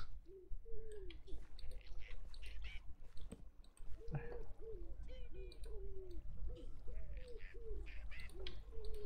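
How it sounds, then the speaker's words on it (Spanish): A pigeon coos in a modded Minecraft 1.12.2 game, with a series of soft repeated coo calls at a steady pace against a quiet hiss and faint rustle, fairly near but low in level. "hay una paloma dentro de una casa."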